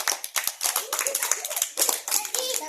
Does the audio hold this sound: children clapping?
yes